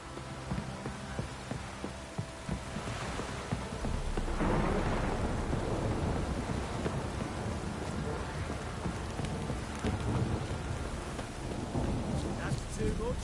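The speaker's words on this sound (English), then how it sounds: "This downpour's a bastard," Heavy rain pours steadily in The Witcher 3, with rumbling thunder building and rolling through the middle of the storm; a faint voice may sit under the downpour.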